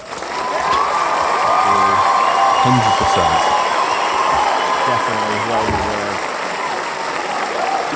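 Audience at a Christmas show breaking into loud, sustained applause and cheering, with a few whoops, while someone talks over the crowd.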